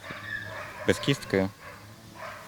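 A working giant schnauzer from a canine unit gives a few quick, close barks in the middle of a short stretch, with someone speaking just before.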